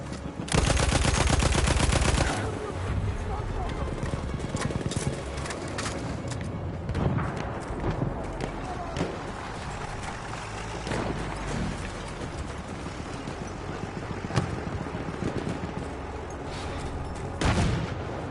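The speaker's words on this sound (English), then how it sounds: "the enemy artillery barrage to stop firing" An enemy artillery barrage rages in Battlefield 1, with dense, continuous battlefield noise, rapid gunfire and scattered heavy booms that rise above the din, loud and unbroken for a long stretch.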